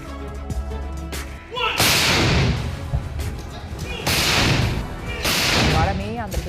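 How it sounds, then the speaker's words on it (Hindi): Three loud, booming cannon blasts about two seconds apart, each with a long rumbling tail, outdoors and fairly close: a 21-gun salute to the flag on Indian Independence Day 2025. "तिरंगे को दी 21 तोपें।"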